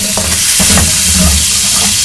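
Fish and onion masala sizzles steadily in a pan for fish pulao after a little water goes in, with a few stirring scrapes over a constant loud hiss.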